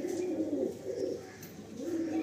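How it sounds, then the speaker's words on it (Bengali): Adult male Madrasi pigeons at a loft coo in low, throaty repeated phrases, close and fairly soft, with a couple of brief pauses between bursts. "আসুন কিছু ধাড়ি নর পায়রা রয়েছে, সেই নর পায়রাগুলো আপনাদের শখ করায়।"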